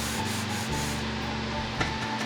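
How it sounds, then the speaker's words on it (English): Back-and-forth rubbing of 320-grit sandpaper on an ebony guitar fretboard: steady, close, dry rasping strokes in a continuous rhythm, with no voices. "That's the bad part about sanding this ebony."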